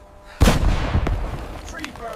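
A heavy artillery shell blast in a wartime battle scene hits with a sudden deep boom, followed by rumbling debris and a few sharper cracks as the explosion decays over a couple of seconds.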